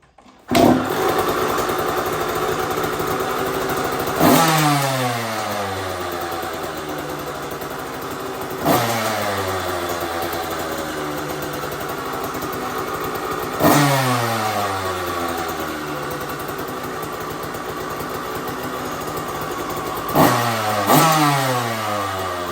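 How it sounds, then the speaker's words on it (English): A 2007 KTM 85 SX two-stroke dirt bike engine, thought to be running too rich, is revved four times in repeated blips, each rising sharply and falling back to a loud, buzzy idle, close by with no talking. "as soon as you turn the choke off and try to rev it, it bogs"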